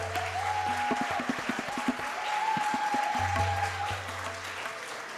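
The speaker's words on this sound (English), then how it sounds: "Ravindra Babu, can we have a big round of applause for Ravindra Babu, please?" An audience at a Diwali celebration by Chinmaya Mission Toronto claps throughout, a dense, sustained burst of applause with a steady tone layered over it.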